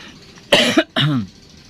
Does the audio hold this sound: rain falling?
no